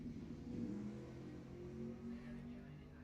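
Supercars revving and launching side by side at Lebanon Valley Dragway during an ET finals event, a steady droning engine roar heard from a distance, moderately faint throughout.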